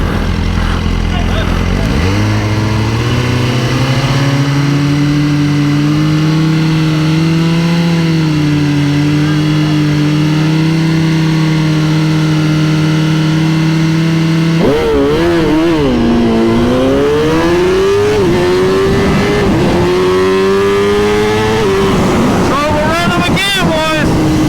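2021 Suzuki GSX-R1000R and 2021 Kawasaki ZX-10R sport bikes accelerating hard on a racetrack. Loud rising engine howls climb through the gears with heavy wind buffeting, and a voice talks over the noise.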